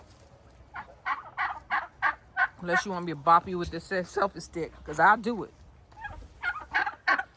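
Turkeys on a homestead give repeated rapid gobbling bursts, close and fairly loud, while a person talks over and between the calls.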